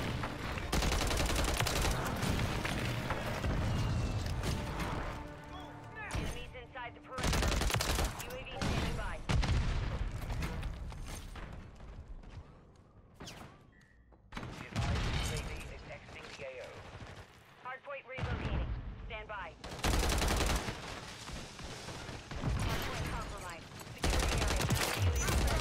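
Gunfire rattles in Modern Warfare 3: loud, sustained bursts of automatic fire come in several waves with brief lulls between them, while players talk over the shooting.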